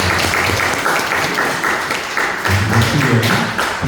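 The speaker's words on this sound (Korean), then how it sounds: "박수 한번 좀 보내주세요." Church congregation applauding together, a dense, steady wash of many hands clapping throughout, close and loud.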